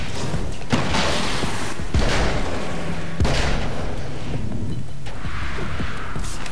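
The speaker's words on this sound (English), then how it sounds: "Flare gun! Flare gun!" Flare gun shots in a video game, loud booming blasts at roughly one-second intervals with whooshing, hissing trails between them, no talk.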